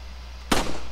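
A single sharp shotgun blast in Resident Evil 4 Ultimate HD Edition, the weapon not upgraded, sounding short and clipped over a low steady hum, then fading quickly.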